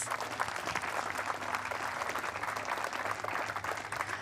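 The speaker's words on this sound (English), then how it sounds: "a big round of applause, Gilbert Yates" Applause at a Ferrari Challenge UK race prize-giving at Snetterton, honouring the race winner: a distant, quiet, continuous patter of clapping from a modest crowd, steady throughout with a faint background hum.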